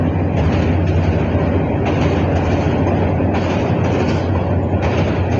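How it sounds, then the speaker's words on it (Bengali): An intercity train passes below, a steady loud rumble of rolling carriages with rhythmic clatter swelling at intervals, continuous throughout with no talking. "নিচ দিয়ে ট্রেন যাইতেছে।"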